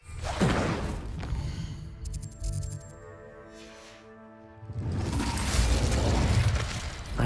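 Incendio fire spell cast in Hogwarts Legacy: a sudden whooshing flare, a stretch of soft tonal game music, then a second roaring burst of flame that swells and lingers.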